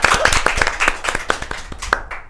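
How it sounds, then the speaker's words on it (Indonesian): Audience claps during a podcast talk session about a science olympiad, sharp individual hand claps in a quick irregular rhythm, close and moderately loud, fading out toward the end. "Tepuk tangan dulu, kita tepuk tangan dulu."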